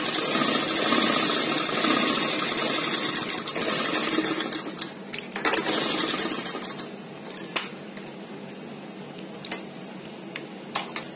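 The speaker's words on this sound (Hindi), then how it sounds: "धीरे धीरे मशीन चलाकर अपनी सीधी सिलाई कर सकते हैं" Sewing machine running a straight seam on rough cloth, a dense fast whirring stitch that is loud and continuous at first, then slows into shorter bursts with clicks, close and without talk.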